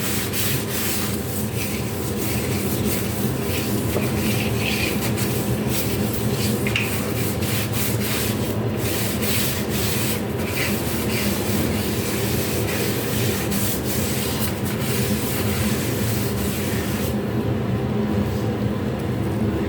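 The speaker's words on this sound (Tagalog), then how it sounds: "kahit kuskusin mo ng steel wool" Steel wool scrubs steadily against a surface being cleaned with a baking soda, vinegar and dish soap mix, giving a continuous close, loud abrasive rasping that runs unbroken the whole time with no talk.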